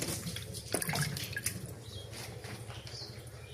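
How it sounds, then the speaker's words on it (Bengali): Baila fish being rinsed in water by hand, with close, irregular splashing, dripping and sloshing over a few seconds and no one talking. "এইখানে আমি বাইলা মাছ ধুয়ে নিচ্ছি"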